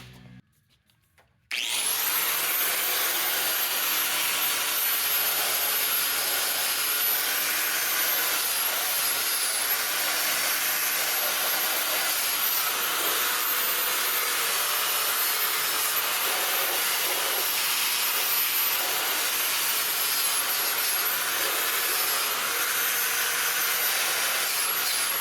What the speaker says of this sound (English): we'll get a wire wheel and we'll get the rest of this cross member cleaned off here